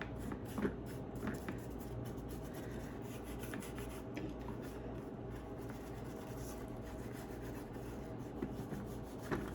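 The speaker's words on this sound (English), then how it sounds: "I'm going to quickly rub it back, because I don't want it to look grey" Black wax is rubbed back by hand on a dollar store piece, a steady close scrubbing and rasping friction that runs throughout with small bumps, no talk.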